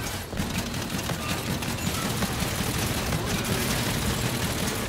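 Rapid sustained gunfire sprays continuously from a shooter video game, dense and loud, with a constant rattle of shots and no pauses.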